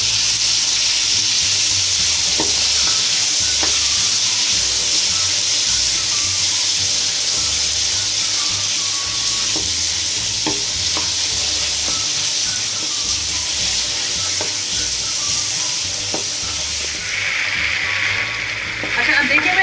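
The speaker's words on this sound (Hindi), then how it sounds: "अदरक लहसुन को थोड़ी देर में भूनूंगी ताकि इसकी निशान निकल जाए" Ginger and garlic frying in ghee for chicken karahi, a continuous loud sizzle with steady hiss and occasional faint clinks of stirring that persists throughout.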